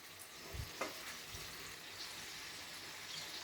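Spices sautéing in hot oil for a raw dates pickle, a quiet steady sizzle with a couple of soft stirring knocks near the start, no talking.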